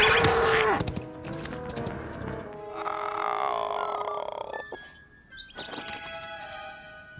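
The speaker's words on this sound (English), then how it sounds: "Have you ever heard such a roar? Oh, some cow." A cartoon cow lets out a loud, drawn-out moo up close, followed by lower bellowing tones and musical sounds that fade in and out with no talking.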